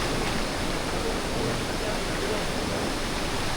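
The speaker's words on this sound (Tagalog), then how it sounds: "ito na tubig, baha." Steady, loud flood water rushes continuously across a road, a broad roaring wash with no breaks.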